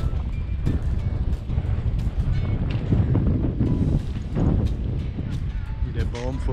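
Strong wind on the Zeeland coast at Brouwersdam buffets the microphone in a steady, dense roar that continues unbroken, with faint voices now and then beneath the gusts.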